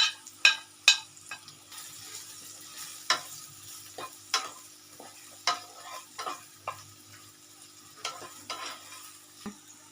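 Chilli and coriander powder fry in a pan on a low flame, with a soft steady sizzle and frequent sharp scrapes and taps of stirring, close by and with no talk.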